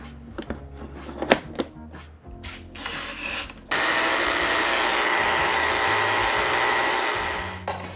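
A high-end compressor ice cream maker churning a frozen cocktail, starting with clunks and clicks as it is set up, then settling into a steady close mechanical whir and hum that runs on evenly before a final click.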